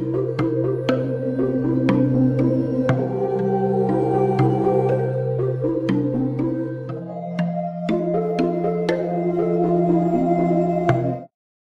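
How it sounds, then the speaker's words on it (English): An empty PET bottle serves as both flute and percussion, playing sustained breathy tones over layered low notes with sharp tapped hits. It continues steadily for about eleven seconds and then stops abruptly. "This is the sound of an empty PET bottle being used as a flute and as a percussive instrument"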